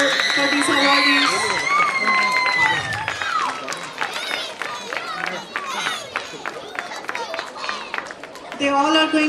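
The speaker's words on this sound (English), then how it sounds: "Big round of applause for these awardees." A crowd at a Hindu temple celebration in Saint Louis applauds and cheers for young awardees, with clapping, shouts and children's voices mixing together loudly and close by.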